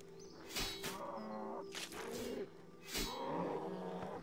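Cows mooing in the RuneScape video game, several drawn-out lowing calls from more than one animal following each other closely, moderately loud with a hollow, slightly thumping background.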